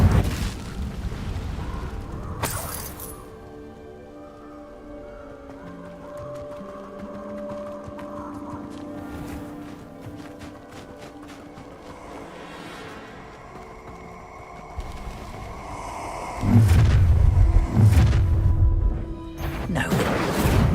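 An Incendio fire spell cast in Hogwarts Legacy bursts out with a sudden whooshing blast, then a longer, louder fiery eruption near the end over a quieter tonal backdrop, with no talk.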